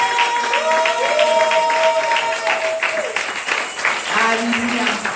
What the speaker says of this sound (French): Tu es prêt à accompagner des acclamations, n'est-ce pas? Des cris de joie.